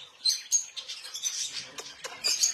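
Small birds chirp and tweet in short, bright bursts, fairly near but soft, with irregular gaps between calls and no talking.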